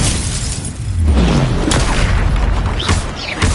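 A Confringo blasting curse going off in a Harry Potter video game, a loud, sustained booming blast with rumbling, shattering debris and a few sharp cracks layered over it.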